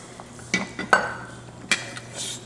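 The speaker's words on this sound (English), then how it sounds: "Stir that up a bit." Vegetable beef soup stirred in a pot: a few short spoon clinks and scrapes against the side, close and moderately loud, separated by brief quiet gaps.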